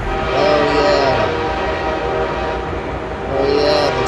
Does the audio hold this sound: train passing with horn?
yes